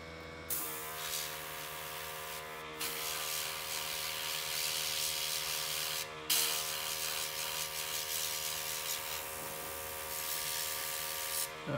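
Airbrush spraying thinned miniature paint, a continuous airy hiss in several long bursts with short gaps between, close and steady above a faint electrical hum.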